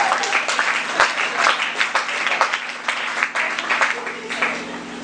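A church congregation claps and applauds steadily throughout, loud and continuous, with voices mixed into the applause.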